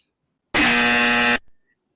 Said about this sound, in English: I know that buzzer wasn't for me